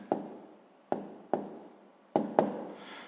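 Chalk or a pen taps and scrapes across a board during a sixth-grade math lesson, five distinct strokes in an uneven rhythm, close and clear with no voice over them.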